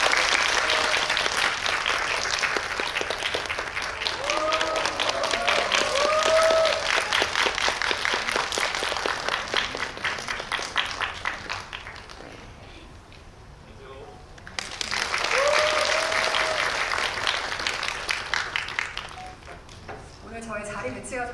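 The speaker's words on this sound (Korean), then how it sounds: "박수 부탁드립니다." An audience at a Megabox COEX cinema screening claps loudly to welcome the director and actors of the film The Ugly. The clapping is dense and sustained, then fades into a lull before a second full burst.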